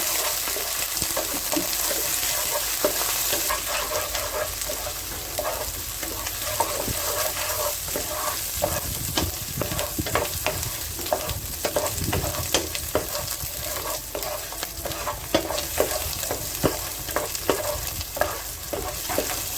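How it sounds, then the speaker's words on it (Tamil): Green chillies and curry leaves fry in hot oil in a pan for a squid chilli fry, with a continuous loud sizzle and crackle and occasional stirring scrapes close by. "4 பச்சை மிளகாய். இது நல்லா ஃப்ரை பண்ணிக்கோங்க."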